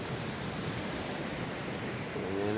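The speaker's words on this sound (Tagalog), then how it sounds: "Yan, medyo lumaki na naman yung alon naman." Ocean waves washing onto a beach, a steady close roar of surf with a swell that builds toward the end, no voices.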